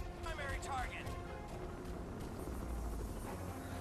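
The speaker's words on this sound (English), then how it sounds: "So the chopper's back" A helicopter gunship in the Crysis 2 shooter, its rotor and engine drone rumbling steadily throughout amid battle ambience, while a voice talks over the top early on.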